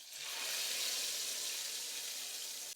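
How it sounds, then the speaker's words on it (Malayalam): Mustard seeds and curry leaves tempering in hot oil for a sardine curry, giving a loud, steady broadband sizzle that holds for nearly three seconds before cutting off abruptly. "നമുക്ക് ഇതിലേക്കൊന്ന് താളിച്ച് കൊടുക്കാം"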